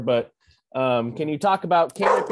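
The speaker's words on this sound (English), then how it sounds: "Oh, that's my dog." A pet dog at home barking during a forestry presentation's question session, a few near, loud yips and barks mixed in with a person speaking.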